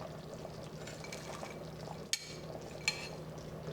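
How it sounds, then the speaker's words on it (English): Green peas tumble into a pot of simmering wild turkey in cream, and two short splashing clatters rise over a low bubbling hum. "So now we're going to add our peas."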